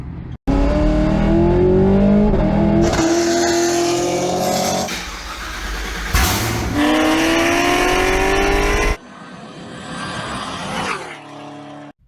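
A 2017 Chevrolet Camaro ZL1 engine with a new oil pump fires up for the first time and revs hard several times, loud and close, with rising roars, a brief drop, then settling into a rougher lower idle.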